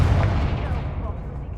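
A Confringo blasting curse is cast in Hogwarts Legacy and lands as a loud, booming burst that trails off over about a second and a half.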